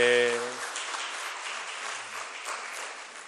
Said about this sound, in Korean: 우리 큰 박수로 감사합니다. 환영하겠습니다